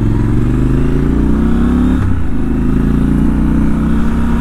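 A 2019 Triumph Scrambler 1200XE motorcycle's engine drones steadily while riding, a loud, close, even rumble with a short shift or throttle change around the midpoint, and no talking.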